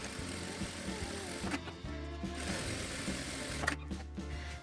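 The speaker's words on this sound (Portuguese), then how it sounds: "então vou passar a costura reta aqui." A sewing machine runs a straight seam along the side of a quilted fabric piece for a box-style case, giving a steady close mechanical whir with brief pauses between bursts and no voices.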